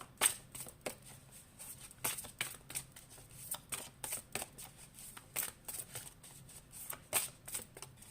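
Tarot cards are shuffled by hand in a quiet room, a rapid series of soft riffling flutters and taps repeating in irregular bursts close to the microphone.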